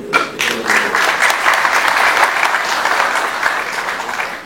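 Loud, close audience applause in a hall for a professor, a thick continuous burst of clapping from a large crowd that stays strong for the whole stretch.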